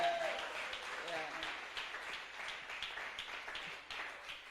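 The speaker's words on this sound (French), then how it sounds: "acclamons pour la chorale" Applause from a church congregation for the choir, a steady broadband wash of many hands clapping that holds evenly throughout.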